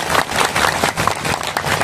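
An audience claps together at a religious gathering in Parean Girang, Indramayu, a dense, continuous patter of many hands that stays loud and close for the whole short stretch.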